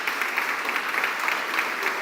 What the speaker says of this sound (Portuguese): Pode aplaudir a palavra do Senhor mesmo.